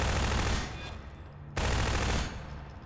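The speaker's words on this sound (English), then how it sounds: "A shotgun here was useful." A shotgun fires twice in a video game. Each blast is loud and booming with a short decaying tail, and the shots are about a second and a half apart.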